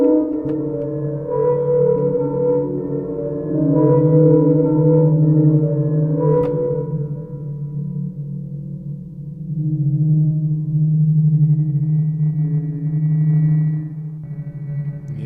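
A low, sustained drone from a pitched-down Fairlight sample in the Arturia CMI V synthesizer, with layered tones slowly swelling and fading, steady and loud throughout.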